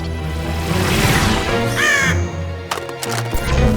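A robot crow in a cartoon gives harsh, loud cawing calls over a busy soundtrack of music and effects, with a couple of short sharp bursts near the end.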